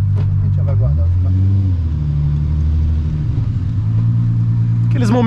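Six-cylinder Volkswagen Golf engine idling with a deep, full-bodied rumble, blipped into a couple of short revs that rise and settle, close by, with voices talking over it.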